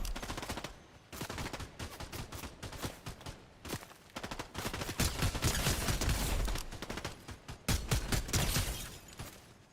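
Gunfire in the video game Fortnite: long rapid automatic bursts and volleys, loud and close, with short breaks between strings of shots.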